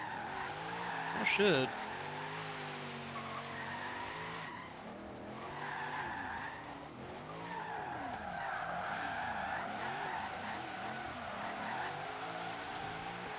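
A 2016 Camaro SS drift build in Forza Horizon 3 slides with sustained tire squeal and a wavering engine note, loud and continuous, as a man briefly exclaims and talks over it.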